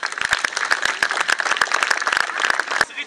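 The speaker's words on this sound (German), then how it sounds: "Ich bitte nun einen herzlichen Applaus für unsere Recken" Audience at a crusader festival at Lockenhaus Castle clapping for the knights, a dense run of sharp, fairly close handclaps continuing steadily to the end, with a brief pause near the close.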